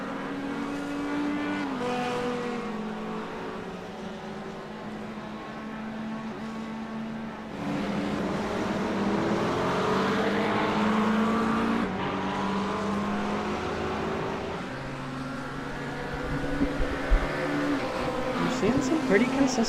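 Race cars in a sim racing game at Daytona International Speedway, engines droning and rising as cars pass, heard under continuous commentary.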